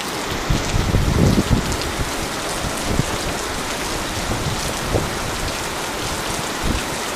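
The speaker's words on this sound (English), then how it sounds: "It's just pouring, pouring, pouring." Heavy rain pouring during a storm, a dense loud continuous hiss of drops on surfaces with low rumbles and occasional heavier splashes, steady throughout.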